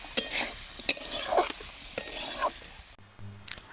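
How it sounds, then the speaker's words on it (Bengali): Mustard paste being mixed into raw tomatoes cooking in a pan for tomato jhal: repeated scraping stirs and utensil clinks close up, a few scrapes in a row, with a short hum and a clatter near the end. "এবারে সর্ষেটা দেওয়ার পর আমি একটু ভালোভাবে মিশিয়ে নেব"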